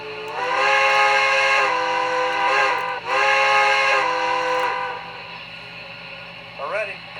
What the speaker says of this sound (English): Now this thing also has a quilling whistle